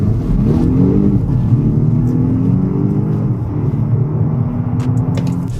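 A Volvo S60 T8 plug-in hybrid with two motors accelerates hard, a loud rising whir and rumble that climbs steadily in pitch, with no voices over it.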